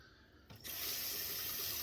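A bathroom tap turns on partway through and runs steadily into a sink, a close hissing stream of water used to thin shave butter, quiet at first then constant.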